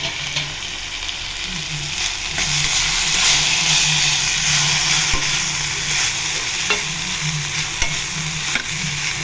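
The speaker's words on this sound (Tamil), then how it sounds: "அந்த அடுப்பிருக்கில் நல்லா எண்ணெயில் இந்த காய் நான் வதக்கியிருக்கேன்" Beans and carrot pieces sizzle steadily in hot oil in a pan, with repeated scraping stirs and soft clatters throughout.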